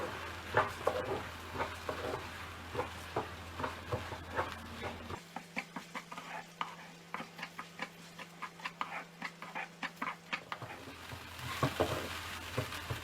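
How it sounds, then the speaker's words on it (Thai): Rice, rinsed and drained, being stir-fried in a pan for chicken khao mok, with a steady run of close scraping, clicking spatula strokes over a low sizzle, alone with no talk. "จากนั้นก็ใส่ข้าวลงไปข้าวเนี่ยต้องเอาไปซาวน้ำแล้วก็เสด็จให้แห้งก่อนนะคะ ผัดให้เข้ากันค่ะ"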